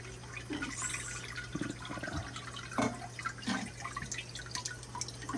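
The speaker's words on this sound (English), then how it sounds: "And we're straining it to get it ready for canning" Chicken stock being strained for canning, a soft trickle and intermittent drips of liquid at low level, close by with no talking.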